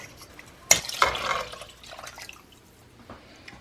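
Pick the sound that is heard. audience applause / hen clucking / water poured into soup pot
water poured into soup pot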